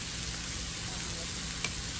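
Smashburger patties sizzling on a griddle over a campfire at a state park campground, a steady, dense hiss with a single faint click near the end.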